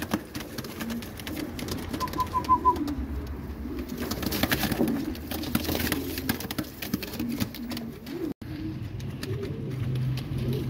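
Crested Shami pigeons, including females, in a bird collection coo steadily and softly, overlapping low throaty calls that run continuously with no talking.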